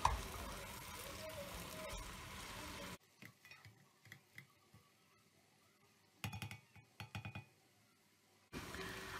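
Spinach is stirred with tomato paste and onion in a pan: a steady sizzle at first, then a quieter stretch of scattered spoon scrapes and clinks against the pan, ending with another burst of sizzling.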